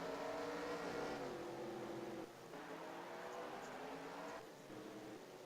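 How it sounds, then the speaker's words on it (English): A field of 42 race cars rolls out onto the track for the Daytona 500 in a racing video game. Their engines make a steady, droning hum whose pitch slowly rises and falls, and no one speaks. "Looks like all 42 cars are going to roll off out on track."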